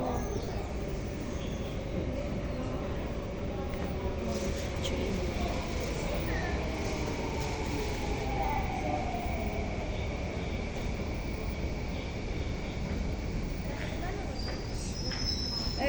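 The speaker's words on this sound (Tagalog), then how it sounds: "One minute na lang, andyan na yung train ko." Singapore train pulling into a station, a steady loud rumble with rising and falling wheel tones and a faint high squeal, with station chatter and voices in the background throughout.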